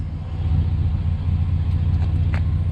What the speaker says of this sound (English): I'm going to be under this truck with the motor running